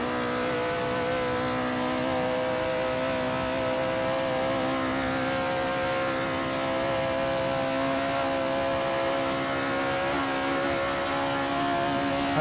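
Vintage 1930s Maserati race car from Wilbur Shaw's era, driven in Assetto Corsa on the historic Monza combined layout, holds a loud, steady, harmonically rich engine note at sustained high revs throughout, with no talk.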